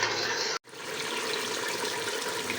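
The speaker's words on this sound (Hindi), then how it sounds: "मैं इसमें डालूँगी पानी।" Water pours steadily into a pot of fried chicken being cooked for biryani, a continuous splashing rush broken by one brief pause near the start.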